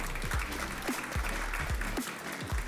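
A conference audience applauds sponsors at a Zabbix event, a sustained dense clatter of many hands clapping at steady loudness, with a few sharper nearby claps standing out and no speech on top.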